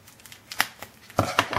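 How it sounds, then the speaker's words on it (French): A few crisp snipping and crinkling sounds, like scissors cutting through paper or plastic packaging, spaced irregularly with short quiet gaps between them. "je me suis armée de ciseaux."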